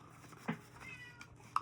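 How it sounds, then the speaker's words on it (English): A house cat gives a short meow and then a second brief one, faint against a quiet indoor room tone. "there goes my kitty trying to get in"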